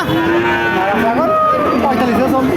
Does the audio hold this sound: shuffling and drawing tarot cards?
no